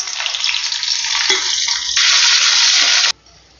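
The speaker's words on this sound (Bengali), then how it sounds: "দিয়ে দিচ্ছি পেঁয়াজ কুচানো।" Chopped onion hits hot oil, left over from frying potatoes for a Bengali dhokar dalna, and a loud, steady sizzle breaks out, close and continuous with a few stirring scrapes, before cutting off suddenly near the end.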